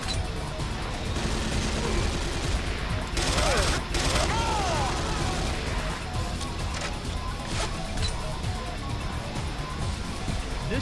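Ceiling turrets in C&C Renegade firing continuously, a dense, loud rattle of automatic gunfire with explosive crashes and whooshing effects layered over a busy game soundscape.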